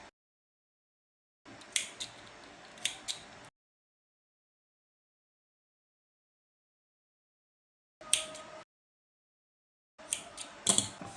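Scissors snipping crochet yarn, three short separate bursts of cutting and handling noise with clean silent gaps between them, close and crisp.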